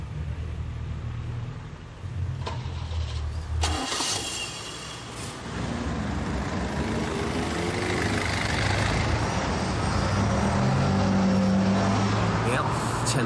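A cold car engine cranks and labours to start, a low churning rumble that steadies into a running idle, with voices talking over it nearby.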